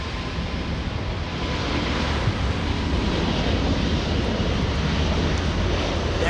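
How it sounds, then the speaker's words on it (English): An Airbus A380 with Rolls-Royce Trent 900 engines takes off from Los Angeles airport, giving a continuous loud, broad jet roar that holds steady throughout with no talk. "You gotta love the sound. The Rolls-Royce Trent 900s powering out of here."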